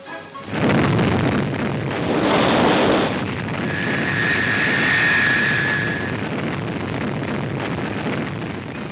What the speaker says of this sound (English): It is only the second launching for the Thor Delta.